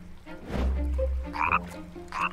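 A cartoon frog gives a loud, low croak that swells and holds for about a second, followed by brighter chirpy calls, heard alone with no talking.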